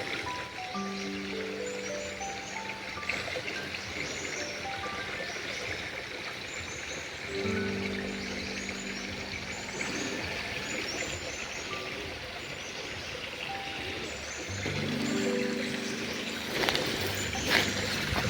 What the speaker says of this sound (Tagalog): Drain ang tubig ba.